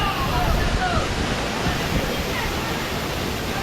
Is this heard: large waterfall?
yes